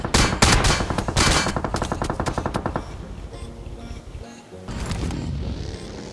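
Rapid automatic gunfire in BGMI fires at a buggy, a loud dense burst of shots for nearly three seconds, then quieter rattling and another burst of fire near the end.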